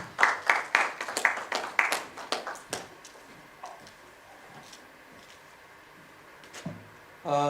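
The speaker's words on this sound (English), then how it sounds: "Can we have a round of applause for him?" A short burst of scattered handclaps from a conference audience, about ten sharp claps over a few seconds, then the room falls quiet.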